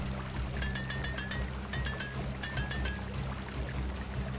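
Water pours in the puzzle game There Is No Game, a short run of bright clinking and trickling notes in two bursts over a steady low hum, with no talking.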